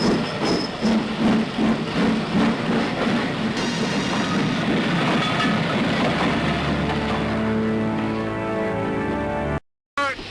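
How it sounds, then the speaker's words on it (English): A steam-era train rumbles and clatters steadily into Coventry station in 1945, its wheels grinding as it slows, with a faint voice underneath; a brief dropout near the end. "The train which has just come in is for Birmingham and Wolverhampton."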